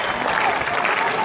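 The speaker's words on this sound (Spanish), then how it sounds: "Vamos a echar unas palmas al chaval que tiene que resolver ahora un compromiso grande." A crowd at a bull-dodging recortes contest in Vilafranca del Cid claps loudly and steadily, with an announcer's voice over the applause.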